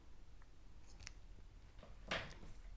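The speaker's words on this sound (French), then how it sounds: "on va couper le fil" Scissors snipping knitting yarn, a couple of faint small snips followed by one crisper, louder cut near the end, close and quiet in a still room with no talking.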